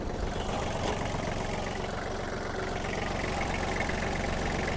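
Kubota GL-29 mini tractor with a D1503 diesel engine idling, a steady, close, even rumble that holds constant throughout with no voices.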